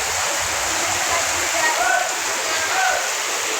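Steady heavy rain roars as a dense, even hiss throughout, with faint higher tones flickering briefly over the wash.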